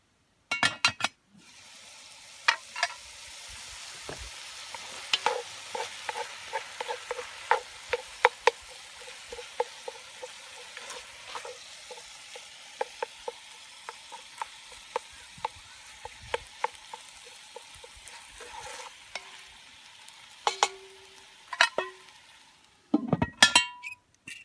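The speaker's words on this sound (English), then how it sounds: "the sausage is cooking, it's doing good. It's down there sizzling away." Sausage sizzling steadily in a cast-iron Dutch oven, with frequent clinks and scrapes of a utensil stirring against the pot, close and fairly quiet throughout.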